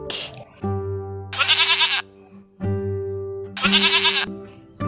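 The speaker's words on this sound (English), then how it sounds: "G for goat" Two bursts of goat bleating, loud and close, over a bouncy children's alphabet song with steady music underneath.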